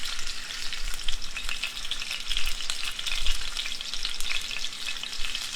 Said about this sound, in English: Now watch the magic of the sizzle.